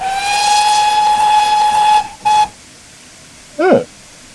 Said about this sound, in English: Let's have a listen to the whistle on this locomotive.